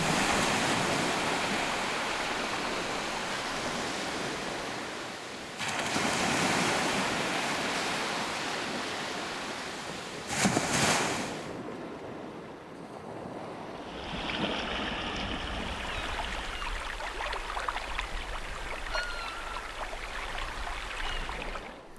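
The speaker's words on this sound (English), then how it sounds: "something as sensuous as waves on a beach" Waves wash steadily onto an Orkney shore, a continuous roar of surf with surges and breaks, wind rushing over the microphone.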